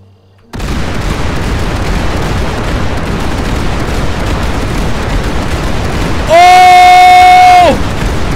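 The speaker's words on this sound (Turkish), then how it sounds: "Uy çok pis patlayacak." An explosion in GTA 5 erupts as a sudden loud roaring blast that sustains for several seconds, with a shrill tonal tone near the end.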